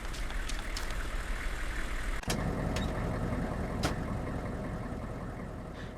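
A vehicle engine in Arma 2 runs steadily at a loud, close idle-like drone, with a sharp click partway through and a few faint ticks over the hum.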